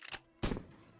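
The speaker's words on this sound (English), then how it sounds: "this here is a salt shotgun" A salt shotgun fires in a cartoon, a single loud blast near the middle that decays over the next half second, after a softer burst at the start.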